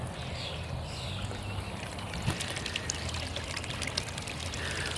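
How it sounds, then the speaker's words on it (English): Water running steadily to refill a backyard swimming pool the morning after opening it from winter, a soft continuous pouring trickle heard from a short distance, fairly faint and even throughout with no talking. "Turn the water back on."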